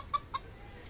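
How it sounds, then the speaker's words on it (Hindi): A silkie hen gives two short, soft clucks close by, with a brief pause between them, against a quiet background. "हमारे पास एक अजूबा मुर्गी आया हुआ है जिसे सिल्की हैन के नाम से जानते हैं"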